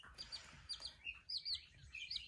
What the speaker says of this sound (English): We have babies, baby chickies.